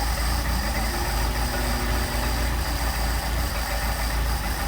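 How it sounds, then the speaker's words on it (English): A Mercedes 190SL engine with Solex carburettors idles steadily and close by, with a low throbbing rumble and slight unevenness as the mixture screw is turned and the idle starts to falter. "Hear the engine start to falter."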